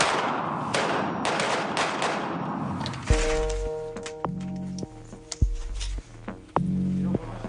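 Several sharp gunshots fired at a target during close-quarters training, spaced irregularly across the clip with loud low thumps and ringing tails, following a stretch of broadband noise.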